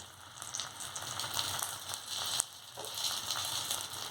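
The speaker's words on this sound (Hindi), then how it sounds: "अब हम एक एक करके अपने स्प्रिंग रोल को शैलो फ्राई कर लेंगे।" Spring rolls shallow fry in hot oil, a steady close crackling sizzle with scattered pops, fairly quiet and continuous throughout.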